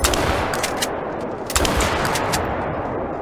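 Rapid gunfire in the hunting video game theHunter as players shoot at pheasants, with several quick shots in a burst, then a pause and another cluster of shots over a loud, noisy background.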